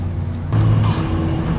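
Car driving on the road, a steady engine drone with low rumbling tones that swell louder for a moment midway, close and continuous without talk.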